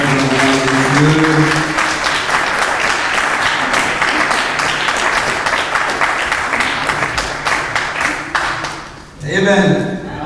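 A church congregation claps and cheers loudly in praise of God, a dense, sustained burst of applause with a voice rising over it near the start and a brief lull before a final surge.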